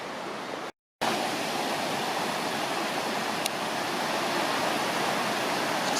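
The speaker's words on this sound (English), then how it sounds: "So water's raging lovely down there." Steady, full roar of river water rushing well below a footpath on the Fisherman's path near Beddgelert, continuous and broadband, broken by a brief dropout near the start, no talking.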